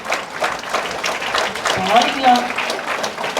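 Audience applause at a Tamil comedy show, a short burst of clapping under a voice speaking throughout, moderately loud and close.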